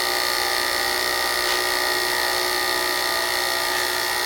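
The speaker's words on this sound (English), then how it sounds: "now using the carbide tool" Carbide turning tool cutting a wooden pen blank spinning on a lathe, a steady high-pitched whine with a constant tonal hum, loud and close, unbroken throughout, no voices.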